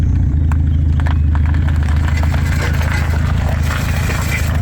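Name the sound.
K-series 1987 Civic pulling away with gas applied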